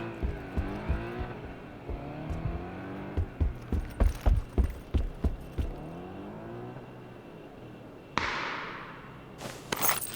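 A car in the battle royale game PUBG drives off, its engine revving in rising and falling gear-shift sweeps with rhythmic knocking bursts, fading farther away before a sharp hiss and clatter near the end.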